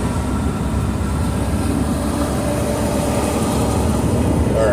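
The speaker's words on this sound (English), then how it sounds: "road noise is getting a little loud" Steady, loud road rumble fills the cabin of a car driving through early-morning rush hour traffic, a constant broadband roar with no break and no talking.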